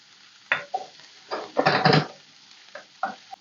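Browned onion and ginger garlic paste are stirred in a pan for chicken tikka masala, giving short scraping, sizzling strokes close by with quiet gaps between them.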